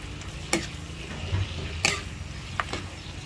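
Spoon stirring binagoongan with string beans in a pan, a few distinct scraping clacks against the metal over a soft sizzle and low background hum.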